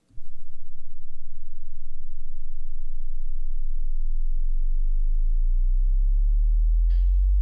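A steady pure sine tone sweeps slowly upward from 20 Hz to 20 kHz, starting as a deep hum and rising continuously, loud and alone with no other sounds.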